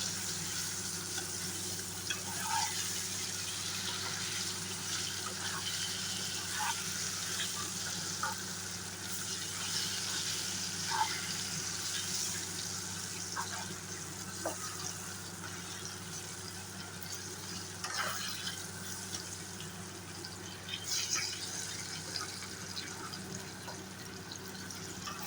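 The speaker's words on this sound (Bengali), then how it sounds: "এখন আলুটা ভালো করে ফ্রাই করে নেব।" Potatoes frying with a little turmeric in a pan, a constant low sizzle with faint bubbling and occasional small pops and clicks running evenly throughout.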